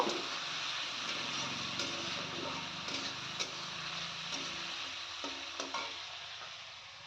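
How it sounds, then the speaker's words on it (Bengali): Potatoes fry in a pan with a steady, moderate sizzle, and faint clicks and taps of stirring sound through it, with no clear talk. "এখানে আমি আলুটা ভেজে প্রথমে তুলে নেব"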